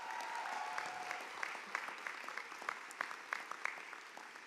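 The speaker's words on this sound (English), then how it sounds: "Let's give that a round of applause." Audience applause at a university commencement ceremony for master's and PhD graduates, a steady wash of clapping from a large crowd with scattered sharper claps standing out, fairly distant and reverberant.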